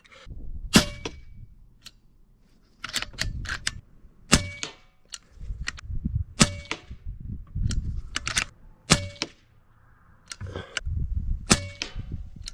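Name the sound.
AEA HP MAX .357 airgun firing pellets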